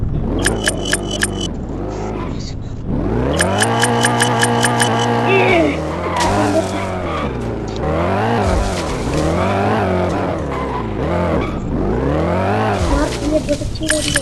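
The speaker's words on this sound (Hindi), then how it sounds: "बहुत अच्छी गाड़ी है।" Engine whine from a car in a mobile extreme driving game rises and falls in repeated sweeping revs, with sharp tire-squeal bursts and skids between them, loud and close throughout.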